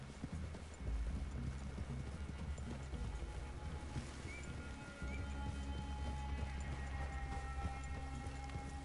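Horse hooves clip-clop in the video game Red Dead Redemption 2 as riders approach a clearing, a steady irregular patter of hoofbeats over a continuous low rumbling outdoor ambience, moderately close throughout.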